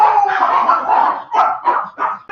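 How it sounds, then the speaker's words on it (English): Several dogs barking in a house at something heard outside, a run of loud, close barks and yips that comes in bursts and then breaks into separate short barks. "now the dogs heard something outside"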